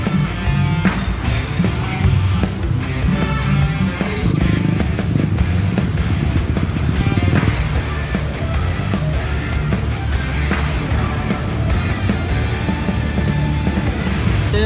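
Heavy road traffic in Manila, a dense, steady roar of motorcycles and cars close by with rolling engine noise and scattered horn-like tones, continuous and loud throughout.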